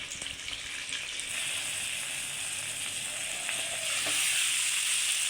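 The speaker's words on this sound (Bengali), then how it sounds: "এটা যেহেতু আমি ভর্তা করবো, তাই একটু ভালো করে ভেজে নিচ্ছি।" Eggplant fries in oil for bharta with a continuous close sizzle that grows slightly louder toward the end.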